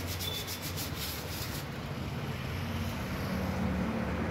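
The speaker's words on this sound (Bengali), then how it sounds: "সেগুলো একটু ঘষে ঘষে তুলে দেওয়া হচ্ছে সিরিজ পেপার দিয়ে" Sandpaper scrubs old paint off an e-rickshaw body in a steady rasping rub, close and continuous with a faint low hum behind it.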